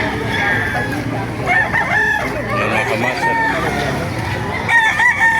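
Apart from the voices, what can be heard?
roosters crowing at a chicken market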